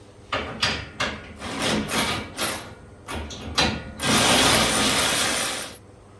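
Ratchet wrench clicking in repeated bursts while car bumper bolts are loosened, two bolts per side, followed by a longer, louder stretch of rapid ratcheting near the end; no talking.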